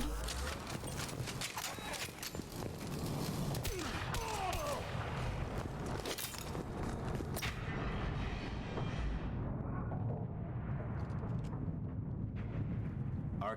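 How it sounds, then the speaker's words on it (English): Rifle gunfire in Mass Effect 2 amid a busy combat mix of repeated shots and impacts, steady and fairly loud throughout with the action fading near the end. "Let me try this new rifle out."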